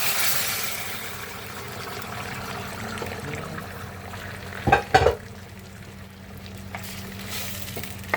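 Liquid pours into a simmering pot of beef pares made with beef head and star anise, a soft steady stream over a background sizzle, with a couple of louder clanks midway.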